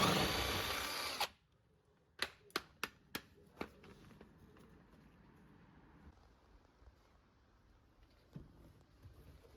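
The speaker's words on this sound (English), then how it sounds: "I undo the large bolts either end of the axle carrier" A power tool runs loudly on the large bolts at either end of a Bentley T Convertible's axle carrier, then cuts off. Several sharp, evenly spaced metallic clanks follow, and quieter scattered clatter comes after them.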